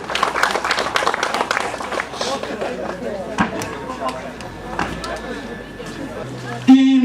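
Scattered applause at a rally award ceremony claps briskly at first, then thins and fades beneath crowd chatter and a loudspeaker voice.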